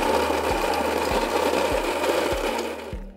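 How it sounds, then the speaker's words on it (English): A coffee grinder whirs steadily through a load of coffee beans, its loud continuous grinding pulsing about every half second with a low rhythmic thump, then cutting off at the end. "Empty the coffee in and start your grinder."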